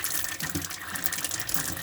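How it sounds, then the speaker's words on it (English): Water runs steadily from the hot-side taps inside a 2013 Swift Freestyle S6 TD caravan, a continuous close, bright gushing stream with no break. "open all the taps up on the hot side"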